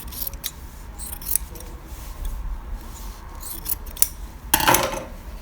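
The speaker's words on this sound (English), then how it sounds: "we're just going to take one layer of our seam allowance and trim it down by half." Scissors trim one layer of fabric seam allowance while sewing a flat felled seam, a run of close, quiet snipping and rubbing cuts ending in a louder, sharper snip.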